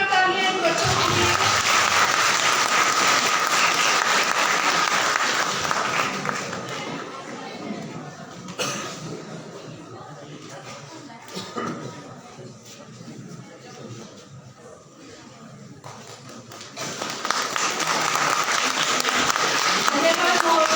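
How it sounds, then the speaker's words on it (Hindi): Applause for two children who presented a vertical farming model at a horticulture agri-fest, loud and dense at first, thinning to scattered claps in the middle, then swelling again near the end. "जोरदार तालियां इन बच्चों के लिए।"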